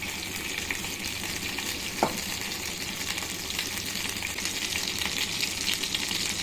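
Ghee sizzles in a small pan on a stovetop while payasam is being made. The frying hiss is steady and moderately loud throughout, with one brief click partway through.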